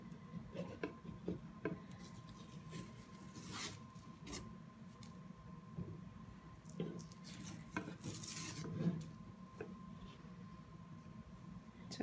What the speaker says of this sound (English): now I take a scraper and I can just scrape the tape off